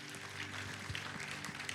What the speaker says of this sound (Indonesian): Tepuk tangan yang dahsyat buat Allah kita.